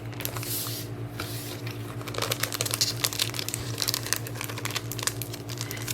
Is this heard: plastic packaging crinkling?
yes